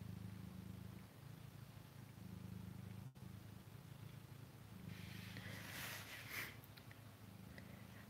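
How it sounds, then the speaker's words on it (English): A contented mother cat named Mesa purrs close by in a low, steady, rhythmic rumble that continues almost unbroken and stays quiet throughout, with faint rustling on top toward the end. "She's still purring."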